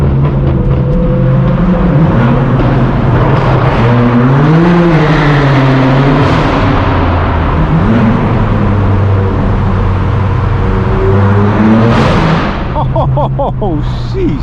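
A straight-piped BMW M4 F82 roars through a tunnel, its loud exhaust rising and falling with repeated revs, booming and echoing continuously, with occasional voices shouting over the engine noise.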